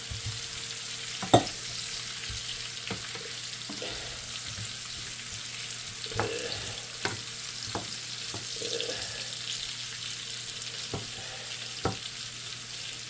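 Squash fries in butter in a pan with a steady low sizzle, broken by occasional sharp clinks and scrapes of stirring, with no voices.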